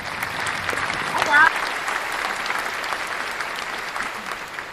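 An audience breaks into sustained applause for a chef from Mississippi, a dense steady clapping heard close by, with a voice speaking briefly over it.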